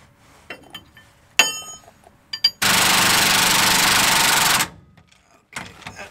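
Impact gun loosening leaf spring bolts on a Ford F550 Super Duty truck: a loud, sustained rattling burst of about two seconds, with clinks and knocks of tools and metal before and after.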